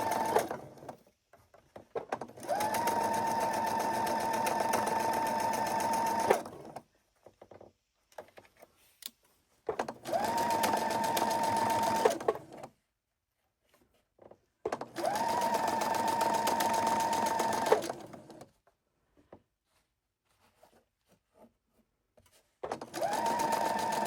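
Sewing machine stitching quilt fabric, running in four bursts of several seconds each, a steady close whirring hum with quiet pauses and faint handling sounds between runs.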